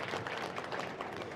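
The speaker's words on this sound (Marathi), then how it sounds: "अच्छा, शेवगावकरांना टाळ्या वाजवता येतात" A crowd at a public rally in Shevgaon, Ahilyadevi Nagar, applauds in a brief, faint, distant wash of clapping.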